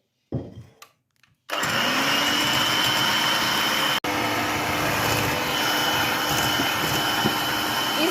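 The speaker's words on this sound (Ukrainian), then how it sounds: "І починаємо збивати." Eggs and sugar for kefir cupcakes are beaten with an electric mixer, a steady whirring drone that starts after a short quiet opening and runs continuously, with a brief dropout midway.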